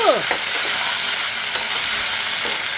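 Onion pieces and fresh ginger-garlic paste frying in oil for aloo curry, a dense, even sizzle held close and loud with faint stirring taps.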